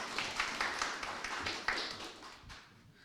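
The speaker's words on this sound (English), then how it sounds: "Let's give a round of applause to the team." Scattered applause from a demo day audience for a startup pitch team, quiet and uneven with sharp individual claps fading toward the end.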